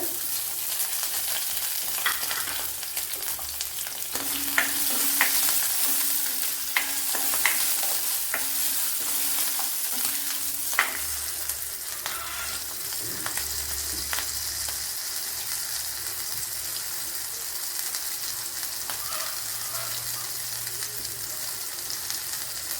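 Garlic cloves, small pieces of ginger and a few green chillies sizzle and fry steadily in hot oil in a pan, with occasional stirring clinks over a continuous crackle, close and alone.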